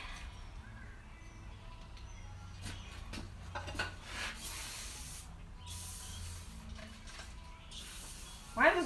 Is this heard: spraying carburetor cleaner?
yes